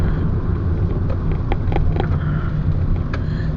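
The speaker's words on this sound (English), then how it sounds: "The engine's very light and jerky," A 2011 Toyota Yaris with a 1.3 engine while driving, a steady low engine and road rumble inside the cabin with faint intermittent clicks and rattles, no talking.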